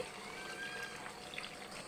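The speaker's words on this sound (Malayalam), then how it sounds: "ഈ വെള്ളവും കൂടെ അങ്ങോട്ട് ഒഴിച്ചു." Water trickles softly from a container over salted gooseberry pickle, a faint, steady pour lasting a couple of seconds close by.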